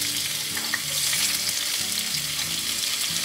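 Pepper frying in a pan, a continuous close sizzle with a low hum in the background and no talking.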